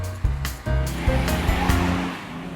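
A restored 1966 Mercedes-Benz 230 SL drives on a kart track, its engine a steady, loud drone with a few sharp bursts and shifts in pitch, close by and without talking.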